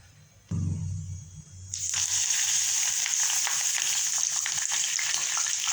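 Ingredients dropped into hot coconut oil in a pan set off a loud, steady, bright sizzle that holds to the end, after a brief low clunk at the start.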